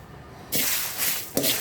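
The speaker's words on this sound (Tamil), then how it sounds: "அதோடு சேர்த்து கடுகையும் போட்டு வறுத்துப்போம்." Fenugreek and mustard seeds hit a hot pan and sizzle with a loud hissing crackle that begins abruptly, swells briefly and flares again near the end, with no voices.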